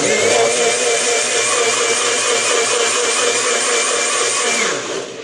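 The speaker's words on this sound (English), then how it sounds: "That's the sound of the Nutribullet." A Nutribullet countertop blender running with water whirs loudly and steadily for about five seconds, a bright, buzzing motor whine that winds down slightly at the end.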